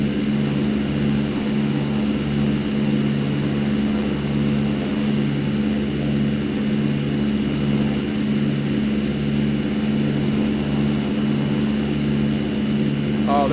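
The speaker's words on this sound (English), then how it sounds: "Oh, look at that plane over there." Steady engine drone of an airplane in a flight simulator video game over Philadelphia, a continuous low hum and propeller-like buzz holding evenly at moderate loudness throughout with no breaks.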